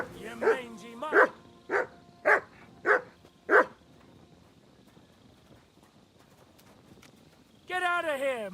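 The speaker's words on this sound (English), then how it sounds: "No one wants to hear your barking." A dog in Kingdom Come: Deliverance II barks six times in a steady rhythm, close and loud, then falls silent before a brief burst of other game sound at the end.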